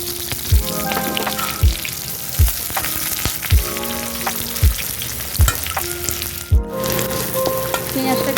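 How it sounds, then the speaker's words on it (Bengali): Chopped onion sizzles in hot oil in a pan after a tempering of green chilies and nigella seeds, with a steady crackle broken by regular scraping stirs about once a second, close and fairly loud. "এবার দিয়ে দিচ্ছি কেটে রাখা পেঁয়াজ।"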